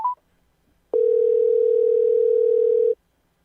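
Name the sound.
telephone dial tone after a dropped call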